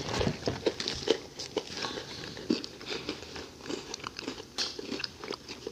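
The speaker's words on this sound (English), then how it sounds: "When you crunch, when you bite into the thing and crunch." Biting and crunching into limited edition Oreo cookies close to a microphone, with a string of sharp, crisp crunches and chewing bursts spread irregularly over several seconds.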